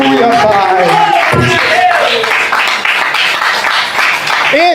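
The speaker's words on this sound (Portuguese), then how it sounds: "Palmas para Ele" Church congregation applauding during a worship service, steady, dense clapping from a crowd under a loud, amplified preacher's voice that keeps speaking throughout.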